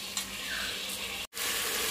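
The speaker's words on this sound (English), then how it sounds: "we will allow this meat to fry for around 3 to 4 minutes" Meat and onion fry in a pan for nihari, giving a steady, faint sizzle throughout with a brief dropout near the end.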